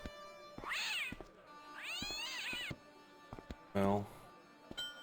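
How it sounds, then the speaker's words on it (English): A cat in the adventure game Broken Sword meows twice in long, wavering, rising-and-falling cries, followed by a shorter lower yowl, loud and close with game ambience underneath. "Cat."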